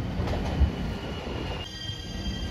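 A JR Shikoku 7200 series local train runs at Kokubu Station on the Yosan Line, giving a steady, moderately close rumble of wheels on rails with a faint high squeal.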